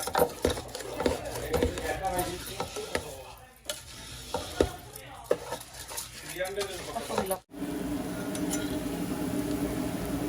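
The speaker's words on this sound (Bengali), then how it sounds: "এখন 5 থেকে 6 মিনিটের মতন আমি একটু নাড়াচাড়া করবো, কিন্তু ভালো করে বিরান করবো।" Rice for white pilau stirred and fried in a pan with ginger and garlic, a steady sizzle under repeated scraping strokes of the spoon, with a brief clink and a louder continuous fry near the end.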